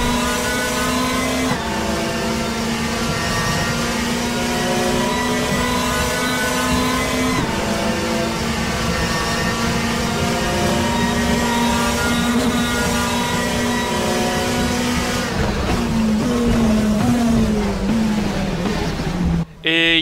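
Touring race cars scream past at the Monza circuit, a continuous high engine whine with shifting pitch as gears change, loud and sustained throughout, with faint commentary beneath.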